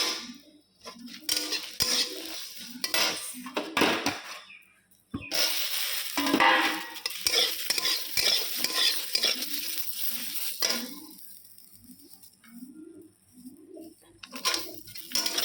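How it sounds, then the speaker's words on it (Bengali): Sesame seeds, melon seeds and almonds dry-roasting in a pan, stirred with a utensil that clinks and scrapes repeatedly in bursts, with a soft hiss between strokes and brief quiet gaps. "তিল, চাল মগজ, কাঠবাদাম, শুকনো খোলা টেলে নিলাম"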